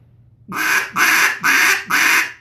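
A duck call blown with slow air gives four deep, raspy quacks in an even rhythm, loud and close, each blast lasting about a third of a second, with no talk over them.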